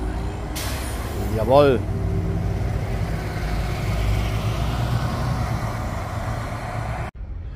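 A Solaris city bus run by a private company drives past close by, its engine rumble building and a brief hiss of air brakes standing out before the sound fades; someone speaks briefly over it.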